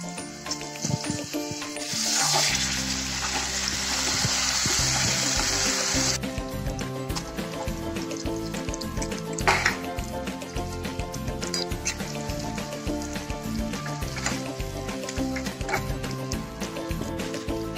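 Whisked yogurt hits hot oil in a pan for Kashmiri dum aloo, bursting into a loud, broad sizzle that settles after a few seconds into scattered crackles and clatter.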